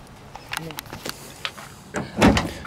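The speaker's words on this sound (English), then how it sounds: "As we open up the doors" The door of a 1974 Plymouth Barracuda opens with a few soft clicks and handle rattles, then a louder latch release and a door swinging open near the end. Quiet movement sounds fill the background.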